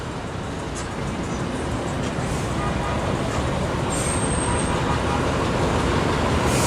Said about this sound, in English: Got the double-decker bus.